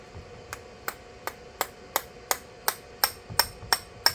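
Hammer striking a Craftsman lawn tractor part, about a dozen sharp metallic blows at a steady roughly one-per-three-seconds-tenths rhythm, close and distinct, no talking.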